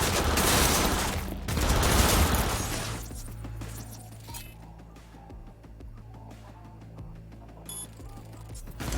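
Gunfire in the video game Cyberpunk 2077, a loud burst of rapid shots and impacts at the start, easing into quieter rattles and a low game ambience.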